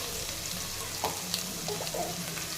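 Soaked chana dal with dried chillies frying in hot oil, a steady soft sizzle running throughout with a few faint clinks of stirring, close and fairly quiet.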